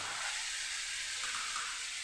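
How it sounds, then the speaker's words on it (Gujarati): Chilli powder, coriander-cumin and turmeric sizzle in hot oil in a pan as a continuous, moderately loud frying hiss, with faint stirring scrapes and no talking. "આ બધું સરસ આપણે મિક્સ કરીને સાતળી લઈશું"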